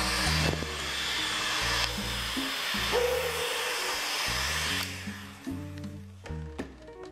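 Heat gun blowing steadily to warm a deck mat on a cutting board, a loud continuous airy roar and hiss that fades and shifts near the end, with no talk.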